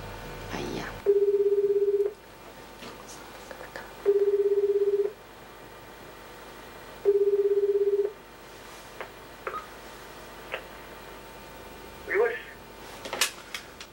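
Three evenly spaced, steady telephone tones about a second long ring out over faint room noise, followed by scattered soft clicks and handling sounds near the end.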